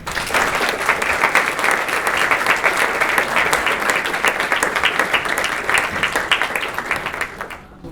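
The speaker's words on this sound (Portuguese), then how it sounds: "eu gostaria de pedir uma salva de palmas para o nosso primeiro palestrante, Pedro Susequinde." Sustained applause from a lecture audience welcoming the first speaker of a Shakespeare talk, dense and steady clapping that fills the room before tapering off at the very end.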